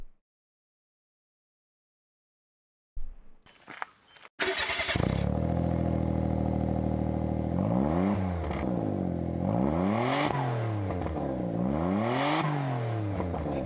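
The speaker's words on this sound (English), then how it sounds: "The worst exhaust video of all time." A car engine cranks and catches after a brief silence, then settles into a loud, rough idle before several rising and falling revs through the exhaust, close and steady with no talk.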